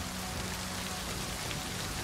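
Steady rain hiss in the strategy game Total War: Pharaoh Dynasties, set at Troy, a dense continuous wash of falling rain with a low rumbling bed underneath, no voices.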